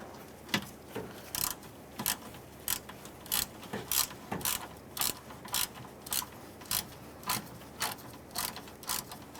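Ratchet wrench clicking in repeated short bursts while tightening radiator line nuts on a 2007-2017 Ford Expedition 5.4L V8, about a dozen sharp clustered clicks, close and fairly loud with no talk.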